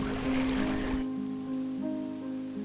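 Rain falls with a dense patter of drops for about a second, then thins to quieter scattered drips over a steady low hum.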